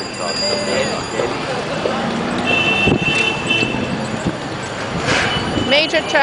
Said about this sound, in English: Major traffic. Downtown Delhi.